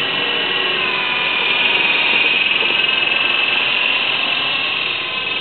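An Air Hogs Gryphon RC toy helicopter flies outdoors into the wind, its small electric motor and rotors giving off a steady high-pitched whine that swells slightly midway, with no talk.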